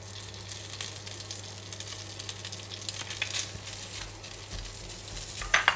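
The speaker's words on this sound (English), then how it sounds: "And I'm going to put in the rice." Rice sizzling and frying in a hot pan with about a tablespoon of cooking oil, a steady crackle with occasional stirring scrapes, close and moderately quiet, with no voices.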